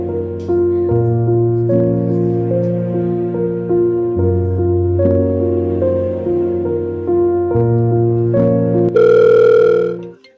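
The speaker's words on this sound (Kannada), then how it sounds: "ಅಣ್ಣ ನಿಕ್ಕಿ ಅಕ್ಕಿ ಫೋನ್ ಹಚ್ಚಿರ್ತಾವ ನೋಡ" An incoming call rings on a phone in a short-film scene as a loud, repeating electronic melody of steady tones. It ends in a brighter burst before cutting off, with no one talking.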